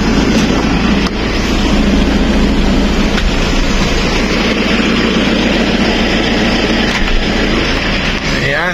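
A motorcycle engine idles nearby with a loud, steady low rumble that holds throughout.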